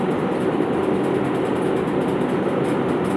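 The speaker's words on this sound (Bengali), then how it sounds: "আমি মেশিনটি চালাচ্ছি" A plate machine with an error -072 fault runs close by, giving off a loud, even mechanical rumble and whir with a faint rhythmic clatter throughout.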